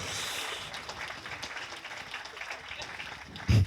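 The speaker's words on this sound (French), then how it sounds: "Est-ce qu'on peut l'applaudir s'il vous plaît?" A small group applauds in a light, scattered patter of clapping under a faint murmur of voices, with a sudden thump near the end.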